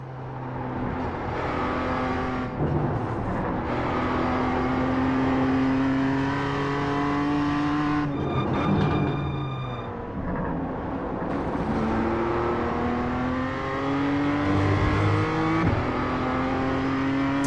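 BMW M2 Cup race car in iRacing at VIR North, its engine revving loud and close through rising gear pulls, with a brief lift and downshift burble midway before climbing hard again; no talk.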